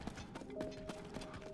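A horse's hooves clip-clopping in The Legend of Zelda: Tears of the Kingdom video game, a few soft, evenly spaced hoof beats, quiet and brief, with faint game tones behind.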